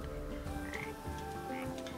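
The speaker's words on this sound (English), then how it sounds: "Also, frogs." Frogs croak in the Papo & Yo video game, a steady chorus of low, repeated calls layered over a busy ambient game soundscape with music-like tones.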